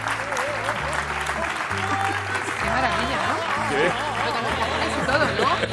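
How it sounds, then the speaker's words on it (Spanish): An audience claps steadily throughout, a dense continuous applause with scattered chuckles and murmured chatter, and a voice talking over it near the microphone. "Vamos a poner un aplauso, por favor."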